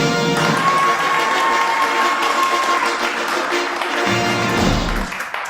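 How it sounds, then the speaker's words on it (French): A studio audience at a French TV show applauds the host, a loud, continuous wash of clapping that fades out near the end. "je vous demande de m'applaudir très très fort"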